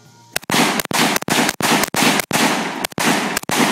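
Rapid loud gunshots from a Draco firearm, about ten sharp blasts in an uneven burst with brief gaps between them, close and dominating, with no talk.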